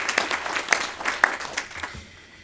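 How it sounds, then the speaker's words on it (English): Applause at a town meeting: a thin scattering of claps from a small audience, a few sharp individual hand claps standing out, fading away after about two seconds. "So I want y'all to give them another round of applause"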